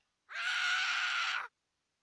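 A single sustained scream in a Hello Neighbor mod video game, about a second long, loud and steady, with abrupt start and end and silence before and after.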